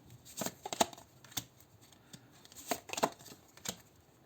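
Tarot cards are riffled and shuffled in a few brisk bursts with short pauses between, close by and fairly quiet, with no talking.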